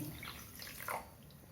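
Half a cup of water poured into a pan of sugar for corn flour halwa, a brief soft splashing pour, quiet and close.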